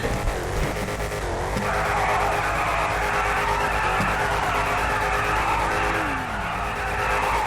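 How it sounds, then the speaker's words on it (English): Cars passing and skidding in GTA 5 street racing, engines revving with tire squeal as vehicles sweep by, loud and continuous over a steady engine drone. "Keep hearing cars passing."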